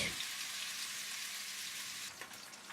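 Rohu fish shallow fries in a pan with an even, soft hiss of oil that stays steady and quiet throughout, with a few faint pops near the end.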